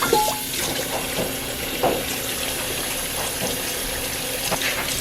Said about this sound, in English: I always like to run cold water behind my hot water stuff.